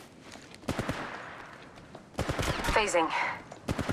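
Gunfire in Apex Legends Mobile, rapid automatic bursts in clusters, close and loud, with a brief spoken line in the middle.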